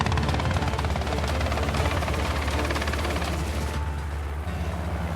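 Helicopter hovering near the mouth of a boma during a wildlife capture in South Africa, a loud, close, continuous rotor thrum with rapid chopping pulses that eases slightly toward the end.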